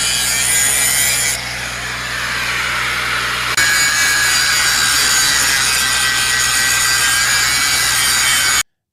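A power tool saws steadily through wood, a loud continuous grinding rasp with a slight shift in pitch partway through, then cuts off abruptly.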